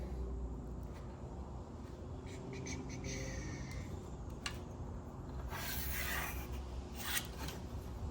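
A pencil or marking tool drawn along white oak in a woodworking shop, giving quiet scratchy rubbing strokes with a few brief brighter scrapes, close and faint over steady low room hum, no talking.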